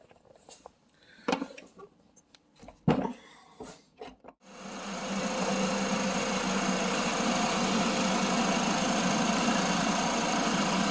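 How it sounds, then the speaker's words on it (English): A 2020 Chevy Equinox is started after a few soft clicks and thumps, then settles into a steady, even idle that runs unbroken to the end, close and fairly loud. "we'll start the vehicle and see what we get"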